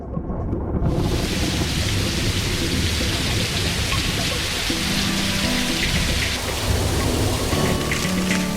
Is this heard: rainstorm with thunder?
yes